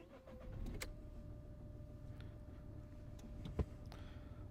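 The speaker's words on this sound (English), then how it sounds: "So start the car up." A 2011 Seat Ibiza 1.2 TDI diesel with a turbocharger boost-control fault cranks and starts, then settles into a steady, fairly quiet idle with a sharp click partway through.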